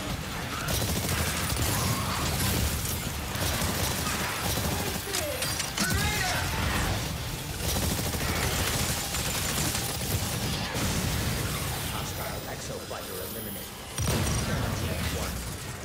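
Grenade blast and rapid gunfire in the sci-fi dinosaur shooter game Exoprimal, a dense, continuous barrage of shots and mechanical clatter. Loud throughout, with game voices mixed in.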